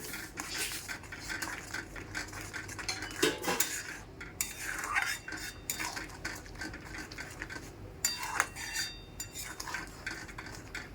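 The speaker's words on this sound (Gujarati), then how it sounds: "આમાં સાકર નાખીશું અને હવે આપણે હલાવીશું" A spoon clinks and scrapes against a pot as sugar and spice masala, made with chili powder and pickle spice, are stirred into a Gujarati dry fruit pickle. The scraping and tapping come in an irregular rhythm, close and fairly clear.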